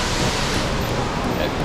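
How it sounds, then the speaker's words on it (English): Millaa Millaa waterfall on the Atherton Tablelands, a steady broadband rush of falling water, close and constant. "Yeah, pretty cool waterfall."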